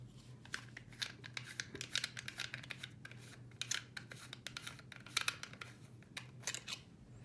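Lightsaber pommel being unscrewed to open the chassis: a series of short, scratchy metallic thread clicks and rasps, close and fairly quiet, in irregular bursts over a low steady hum.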